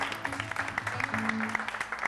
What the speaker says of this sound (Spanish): Un aplauso para mis músicos